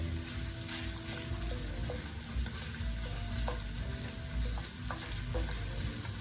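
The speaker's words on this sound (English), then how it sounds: "while I saute the vegetables" Vegetables for keto stuffed peppers sauté in a pan with a steady, moderately quiet sizzle and occasional stirring clinks, no talking.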